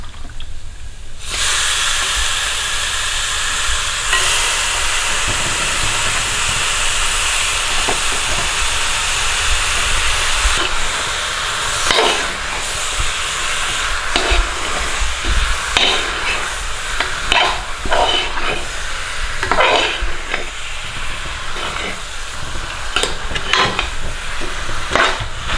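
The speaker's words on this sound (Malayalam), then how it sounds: "പിന്നെ കഴുകി വൃത്തിയാക്കി വെച്ചിരിക്കുന്ന ചിക്കൻ കഷ്ണങ്ങൾ നമുക്ക് ഇട്ട് കൊടുക്കാം." Washed chicken pieces drop into frying masala for a Kerala-style chicken curry, and a loud continuous sizzle and hiss follows, with intermittent clatter and scraping from stirring.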